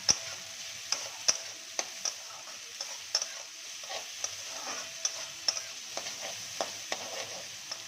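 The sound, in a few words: capsicum sizzling while stir-frying for flattened rice pulao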